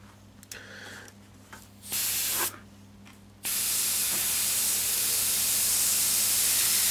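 A nearby airbrush spraying paint hisses in a short burst, stops, hisses again, then settles into a loud, continuous airy spray to the end.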